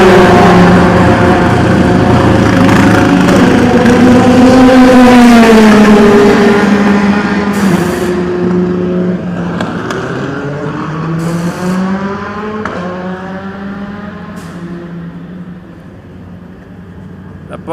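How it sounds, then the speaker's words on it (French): Porsche No. 2 race car at the Le Mans 24 Hours qualifying session, its engine note rising and falling with repeated pitch sweeps as it approaches and passes, loud throughout and fading toward the end. "La Porsche elle arrive"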